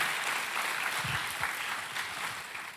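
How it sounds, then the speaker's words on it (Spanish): Congregation applause during a church sermon, fairly quiet, steady clapping from a moderate crowd lasting a few seconds and fading slightly at the end. "Démosle un aplauso al Señor por eso."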